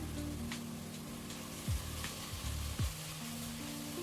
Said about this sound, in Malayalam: അപ്പോൾ വീണ്ടും നന്നായിട്ടൊന്ന് വഴറ്റി കൊടുക്കാം. ഇനി കുറച്ച് കറിവേപ്പില ഇട്ട് കൊടുക്കാം.